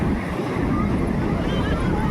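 Sea waves surge up Chandrabhaga beach in the morning, a loud, continuous roar of surf mixed with heavy wind rumble close to the microphone.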